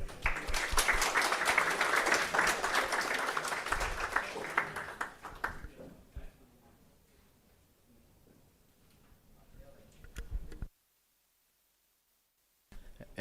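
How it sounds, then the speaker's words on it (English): An audience at a Flutter developer conference gives a speaker a round of applause, a steady burst of clapping for about five seconds that then fades into quiet room noise. "So please give him a big round of applause."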